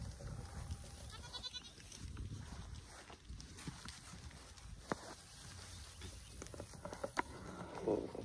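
Goats gathering outdoors on a farm in springtime, with scattered faint bleats and soft shuffling over a steady low rumble, no voices.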